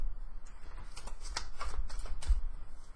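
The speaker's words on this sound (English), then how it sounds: "I like to shuffle a little bit more once I start" A deck of tarot cards shuffled by hand, giving a few quick close riffles and soft slaps in a short burst, with no talking.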